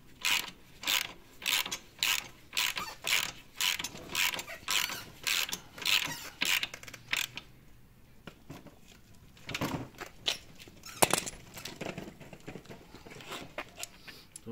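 A ratchet tightens screws on a Bobber 125 motorcycle, starting with a fast, steady run of clicking pawl strokes, then slowing into scattered, irregular clicks and creaks, close and fairly quiet.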